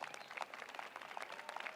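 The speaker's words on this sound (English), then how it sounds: "that's worth applause" Audience applause at the White House, a sustained patter of many hands clapping, fairly faint and distant, steady throughout with no talk over it.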